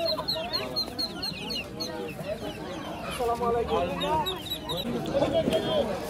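Several hens cluck and chatter close by in a busy, continuous stream at a rural poultry market in Bangladesh, with people talking in the background.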